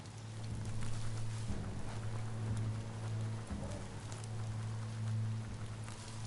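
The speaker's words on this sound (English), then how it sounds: "Might as well just dive in that rain and get wet." Steady rain hisses evenly throughout, with a low droning hum underneath, a continuous soundscape from the video game Biomutant.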